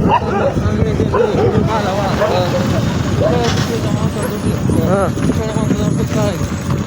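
A dog barks and yips amid loud, near, overlapping human shouting and talk, its calls partly buried under the voices throughout.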